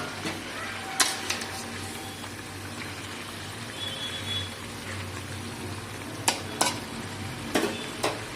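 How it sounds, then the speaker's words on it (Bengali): Fish simmers with onions in a pan, a low, continuous sizzle and bubble with a few sharp clinks and stirring scrapes scattered through. "মাছটা দেওয়ার পরে কত সুন্দর ফুটছে দেখুন।"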